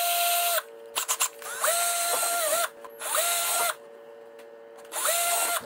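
A power drill bores a hole during a street-legal 2023 KTM 450 XCF dirtbike build, whining up in several close, loud bursts with short pauses and rising pitch between them.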